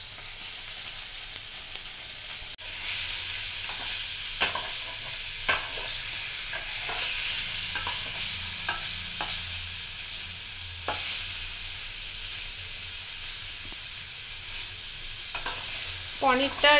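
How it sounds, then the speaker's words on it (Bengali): Pieces of paneer fry in a pan under a continuous sizzle, while a utensil stirs them with repeated scraping strokes and clicks against the metal, close and fairly quiet, with no voices. "পনির গুলো ভেজে নেবে"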